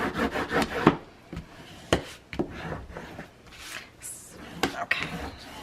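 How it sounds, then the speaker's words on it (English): Paper backing on a handmade album cover is burnished with irregular rubbing and scraping strokes, close and moderately loud, broken by sharp taps. "I'm going to flip that over, and I'm going to burnish."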